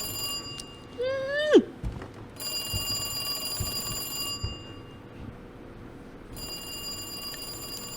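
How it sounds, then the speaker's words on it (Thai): An old-style telephone rings in Resident Evil 2 Remake, a continuous bright metallic trill over a steady background hum, with a pause midway before the ringing resumes; a sharp rising squeal precedes it and a person talks briefly early on. "เฮ้ยเมื่อกี้โทรศัพท์ อ้าวนึกว่านาฬิกาปลุกอะไรเงี้ย"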